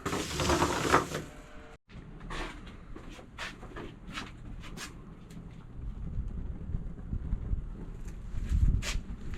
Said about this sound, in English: Ooh, the wind. I like that.